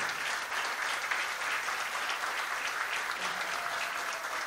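A hall audience at the 2019 Yuva Sangh Mumbai Region AGM in Borivali applauds Hareshbhai Nakrani. The clapping is sustained and evenly dense, a steady wash with no voices over it.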